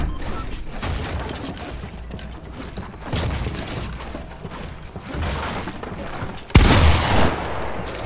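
Gunfire in the video game Fortnite sounds as a run of fast shots and crackling bursts, with one sharp, loud blast standing out near the end.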